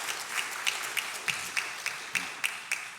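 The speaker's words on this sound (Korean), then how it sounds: "우리 뜨거운 박수로 한번 오늘 환영해 주시면" A church congregation at Jeonju Deokjin Church in Korea claps to welcome a deacon back to the service: a brief burst of fairly faint clapping with distinct, evenly spaced claps standing out.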